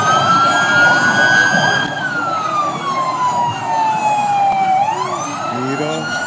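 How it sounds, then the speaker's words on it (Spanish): Police patrol car sirens wailing at a patriotic parade, loud and close, a single siren tone sweeping slowly up and down over rumbling engine and crowd noise. "mira las patrullas estas"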